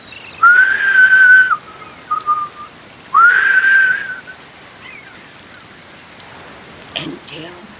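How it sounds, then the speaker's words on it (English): A person whistles two long, steady tones separated by a short pause, with a brief chirp between them, over a soft rain-like hiss. "and he started to whistle"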